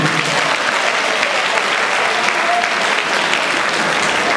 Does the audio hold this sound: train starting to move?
no